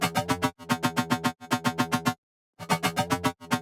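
A dry, plain synth bass pattern of quick repeated pulsing notes in short phrases, with a brief silent gap before it resumes.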